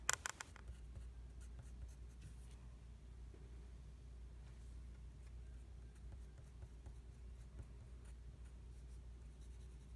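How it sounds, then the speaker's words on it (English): Drawing a rose on paper with a pencil gives a faint, steady scratching and soft strokes that run on quietly throughout, with no voices. "we're just drawing."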